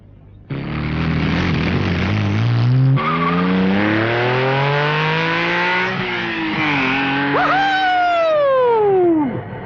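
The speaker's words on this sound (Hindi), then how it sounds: "जरा सा एक्सीलेटर दबाया, हवा से बातें करने लग जाती है" Car engine revving hard and accelerating, loud and close, pitch climbing through several gear changes, with a squealing tire sweep near the end.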